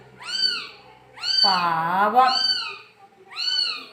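A hungry kitten meows repeatedly for milk, giving four distinct rising-falling cries, one long drawn-out wail in the middle, heard up close, with a person speaking softly nearby.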